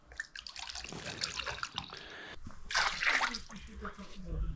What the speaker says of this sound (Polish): wodę możesz wypuścić już.